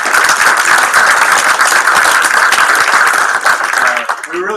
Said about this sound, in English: So round of applause to Derek for that.